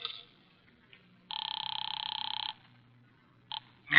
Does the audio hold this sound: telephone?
yes